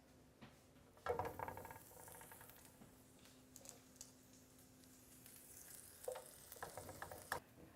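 Paninis fry quietly in warmed butter in a pan, a faint soft sizzle with a few louder bursts of crackle and light patter, no voices.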